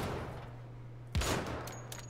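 Gunfire in the video game Wolfenstein: The Old Blood: one loud, sharp blast cuts through a steady low in-game hum, then trails off into a brief echoing decay.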